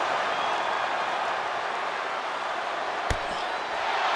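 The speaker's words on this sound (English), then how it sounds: "What a raucous crowd here tonight." Arena crowd noise from a WWE 2K24 wrestling video game match, a steady dense roar of cheering with a single sharp slam-like hit near the end.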